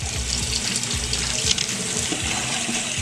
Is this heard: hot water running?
yes